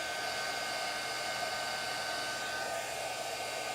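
A handheld heat tool blows a steady, even whir while melting embossing powder for card stamping, a close, constant fan-and-heater hum with no voices.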